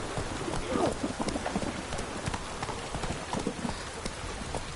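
Hoofbeats of Roach the horse pound along at a gallop in The Witcher 3: Blood and Wine, a steady quick clatter under a hissing wash of rain or ambient noise, fairly faint throughout.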